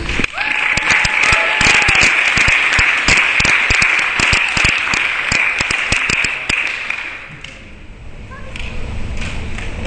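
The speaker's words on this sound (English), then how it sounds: "give a big round of applause for Chris and a big round of applause for Bob Richards" An audience at a space generation conference gives a round of applause for Chris and Bob Richards, a loud burst of many clapping hands that thins out and fades toward the end, leaving quieter room noise.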